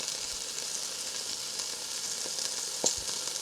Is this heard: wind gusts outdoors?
no